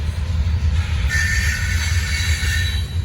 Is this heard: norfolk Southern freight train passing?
yes